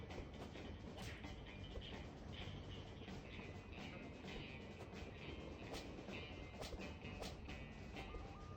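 A train in the Cactus McCoy video game's train level rumbles steadily with a dense rattling, clattering roll and repeated sharp metallic knocks, loud and continuous throughout.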